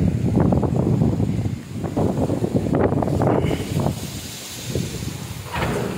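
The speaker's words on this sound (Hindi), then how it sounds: "कितनी तेज हवा चल रही है, वाह पूरा भयंकर आंधी" Strong gusting wind from a storm roars and buffets the microphone continuously, heavy and close throughout with surging bursts.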